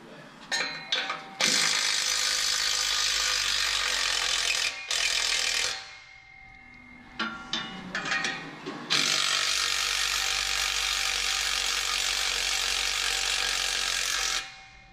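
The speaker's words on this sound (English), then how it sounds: "First thing I'm gonna do is unbolt all this." A ratchet unbolting a car exhaust, heard as dense runs of quick clicking with short pauses between bursts, loud and close, with no talking.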